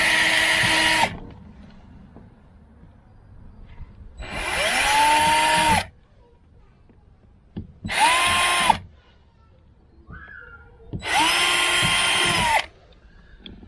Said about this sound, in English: So now I got the little drill bit. Just gonna drill in the pilot hole.